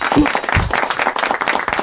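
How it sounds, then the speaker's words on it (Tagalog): An audience at a business seminar claps for themselves, brief uneven applause with voices mixed in among the clapping. "palakpakan nyo nga po yung sarili nyo, yung mga pumalakpak."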